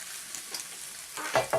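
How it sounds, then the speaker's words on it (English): Fajitas simmer in a pan with a faint, soft sizzle, followed near the end by two brief, louder stirring scrapes. "we're just going to let this simmer just a little bit longer"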